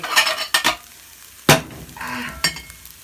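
Scrambled eggs in a frying pan, with several short scraping stirs and sizzling bursts from a utensil working the eggs, close and fairly loud, no speech.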